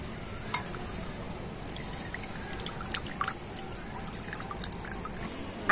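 Onion oil straining through a white cotton cloth laid over a strainer, a soft continuous trickle and scattered drips, faint and close, with small clicks now and then.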